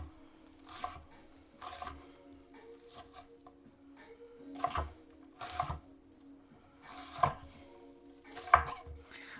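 Knife strikes on a cutting board while vegetables for a plant-based zuppa toscana are chopped, in irregular bursts of close, crisp thuds with short pauses between.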